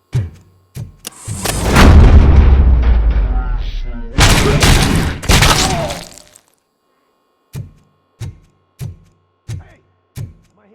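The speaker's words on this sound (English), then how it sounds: "Am I hearing gunshots?" In the video game RoboCop: Rogue City, loud crashing booms and a long rumbling blast open the sequence, followed by silence and then a steady series of sharp, evenly spaced gunshots.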